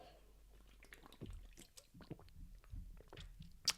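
Someone drinks coconut water up close: soft wet slurps, gulps and squishy mouth sounds in an irregular sequence, ending with a sharp little click.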